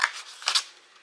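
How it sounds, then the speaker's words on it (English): Scissors snip paper for a reindeer treat box, a few quick close cuts in a short burst. "So what you're going to do is you're just going to cut off this here, these 4 pieces right here."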